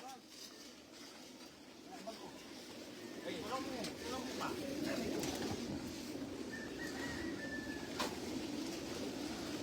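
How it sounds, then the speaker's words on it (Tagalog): Pigeons at a racing loft giving soft, low cooing amid a busy outdoor background, with occasional higher bird calls and people talking nearby. "Marami pa hong ibon. Marami pa po yung mga ibon po natin."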